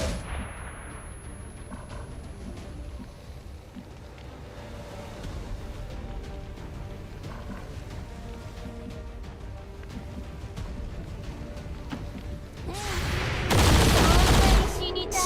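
Gunfire and flashbang grenade blasts in the tactical game XCOM 2, scattered shots and bangs over a busy game soundscape, ending in a loud burst of explosive noise near the close.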